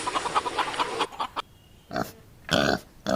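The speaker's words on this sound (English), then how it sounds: "pigs" Pig oinking in a short animal-sound sequence: a noisy grunting stretch at the start, then a few brief snorts and grunts with pauses between them, loud and close, with no talking.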